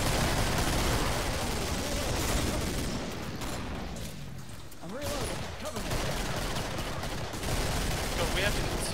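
Dense, continuous gunfire in the game Killing Floor on hard mode, a busy layered barrage of shots that dips briefly midway before swelling again, fairly loud and close.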